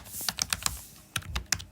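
Code being typed on a computer keyboard in two short bursts of quick key clicks separated by a brief pause, close and fairly quiet.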